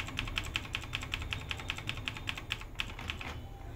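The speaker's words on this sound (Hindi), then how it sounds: "डेल दबा के BIOS में घुस जाएंगे" The Del key on an assembled PC's keyboard is tapped rapidly and repeatedly at startup to get into the BIOS, giving a quick, even run of light plastic clicks close by with no voices.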